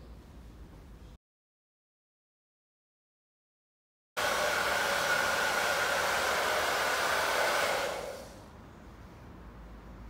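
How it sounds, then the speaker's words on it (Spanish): Cooling fan of a Fresnel LED light whirring as a steady broadband hiss that starts abruptly after a silent gap, holds evenly for several seconds, then drops to a quieter level. "¿Cansado del ruido de los ventiladores de los Fresnel LED?"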